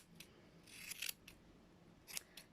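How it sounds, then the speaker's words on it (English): Scissors snip through a Doodle dog's hair in a few quick, crisp cuts, close up, with short quiet gaps between them. "take the scissors from the side and cut along in a nice straight line"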